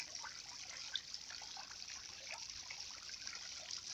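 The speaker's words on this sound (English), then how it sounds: "this is my solar powered water aerator for my dam" A homemade solar-powered aerator built from treated timber splashes and trickles water at a farm dam, a faint, steady bubbling and dribbling heard outdoors without talk.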